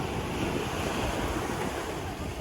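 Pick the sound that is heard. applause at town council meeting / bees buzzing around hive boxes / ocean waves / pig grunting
ocean waves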